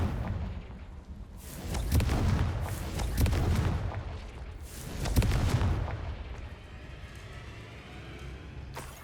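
Confringo fire curse spells blast in Hogwarts Legacy, three heavy booming explosions a couple of seconds apart, each with a deep rumbling tail, before the sound settles into quiet game ambience.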